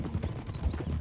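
Hoofbeats clatter in a quick, uneven rhythm as a horse moves along a rocky track in the Western game Red Dead Redemption 2, close and fairly steady over a low background rumble.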